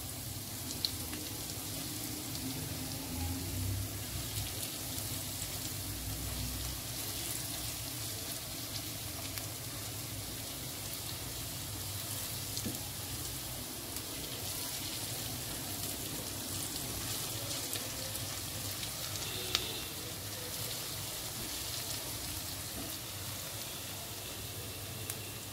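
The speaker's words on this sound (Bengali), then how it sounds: "ভাজাটা একটু সময় লাগবে" Cabbage fritters fry in hot oil, giving a soft, steady sizzle and crackle with occasional faint clicks in a quiet kitchen.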